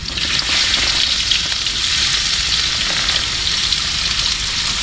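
Onion fries with garlic in a hot pan, giving a loud, steady, close sizzle with a dense crackling hiss that runs the whole time without a break and with no voices.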